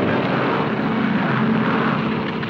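A propeller airliner drones steadily in flight, a loud, even engine hum filling the scene with no voices heard.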